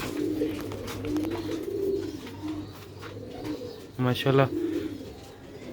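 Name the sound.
rooftop pigeons cooing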